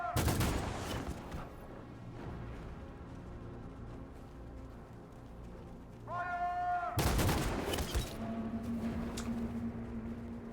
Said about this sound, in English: they're shooting on anybody but the leader